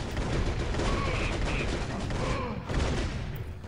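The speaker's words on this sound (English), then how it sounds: "I'm just getting shot from the back." Dense gunfire rattles in the video game Turok: Rage Wars, a continuous burst of shots running through the whole stretch under a steady wash of game noise.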